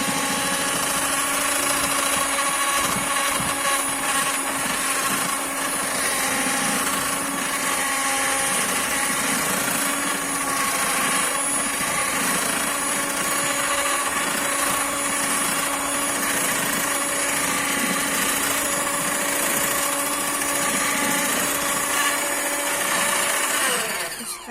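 An electric mixer whirs steadily while blending dough ingredients, a constant high motor whine that holds at an even level for about twenty-five seconds before cutting off at the end.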